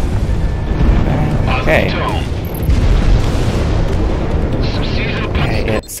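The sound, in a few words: enemy fighter aircraft shot down, explosions, video game Project Wingman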